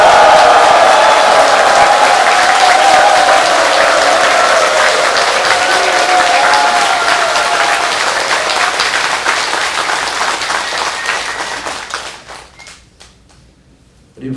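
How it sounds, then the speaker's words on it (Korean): A crowd at a Buddhist dharma talk claps and cheers in a steady, dense roar of applause for about twelve seconds, then it thins out and fades to near silence. "우리 큰 함성과 박수 한번 부탁합니다."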